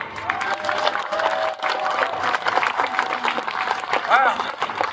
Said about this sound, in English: I was going to start a slow clap, but they were just so enthusiastic